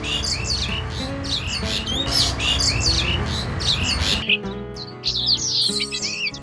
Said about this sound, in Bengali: দেশের প্রায় সব জায়গাতেই শোনা যায় সুরেলা কণ্ঠের বিভিন্ন পাখির ডাক।